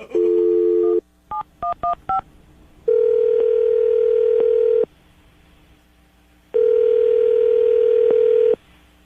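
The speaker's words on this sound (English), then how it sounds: "we're going to dial the phone number right now" A telephone line gives a steady dial tone, then a quick series of touch-tone beeps as a number is punched in. A long ringback tone follows, and after a gap of silence it rings again, loud and close.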